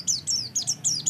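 Pet canary with cataracts in both eyes, or a white-eye, chirping close by in a quick run of bright, sweeping tweets, loud and clear with no talk.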